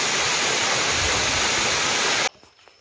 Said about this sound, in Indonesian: Inilah dia nih, air terjun Miritiri. Tuh dia punya puncak air di ujung sana, terus dia mengalir jatuh melalui batu-batu.